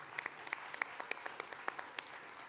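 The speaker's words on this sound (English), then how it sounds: "So let's please give him one more round of applause." Scattered audience applause at a men's wellness panel discussion in Cleveland, a thin, distinct patter of individual claps, faint and fairly distant, without talk.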